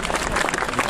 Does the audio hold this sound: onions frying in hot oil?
no